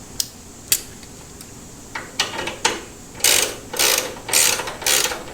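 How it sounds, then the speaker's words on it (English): A ratchet tightens a sissybar bolt on a Harley-Davidson Iron 883, starting with a few sparse clicks and moving into repeated bursts of rapid clicking strokes, close and clear, with no voices. "tightening it up with your ratchet"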